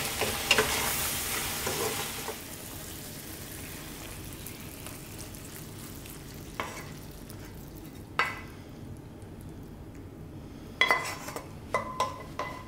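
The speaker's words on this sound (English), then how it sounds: "We're going to cook this just for about another 2 minutes max, really. Stirring now." Creamed spinach cooking in a pan fizzes with a continuous sizzle, louder at first and then settling, while a utensil stirs and scrapes in occasional sharp knocks against the pan; nobody talks.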